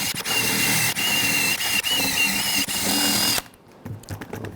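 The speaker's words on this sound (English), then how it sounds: "We'll take a wire brush, just clean up any corrosion where the pad's going to sit." A wire brush scrubs corrosion off a brake caliper bracket on a 2017-2022 Honda CR-V, loud rapid scraping in short bursts for over three seconds, then stopping into quieter handling noise.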